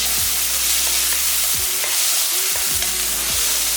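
Chopped tomato frying into a vegetable kurma base with cauliflower, a loud dense close sizzle running throughout, with several low thumps and scrapes of stirring.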